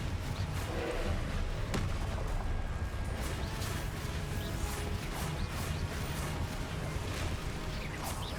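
Fire spell explosions in the Hogwarts Legacy video game, a dense, steady barrage of booming thuds and crashes with sharp impacts near 0.1 and 1.7 seconds, loud and continuous with no voices.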